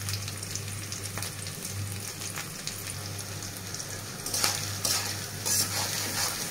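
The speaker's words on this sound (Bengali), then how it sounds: "পেঁয়াজ আর মরিচগুলো হালকা ভাজা হয়ে গেলে" Onions and chillies fry in a pan with a steady close sizzle, while a utensil stirs and scrapes with intermittent clinks that grow louder near the end.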